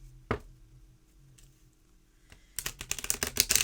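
A thin 44-card Flowers of the Night Oracle deck being shuffled: a single sharp tap, a quiet pause, then a rapid run of crisp, clicking card flutters close up.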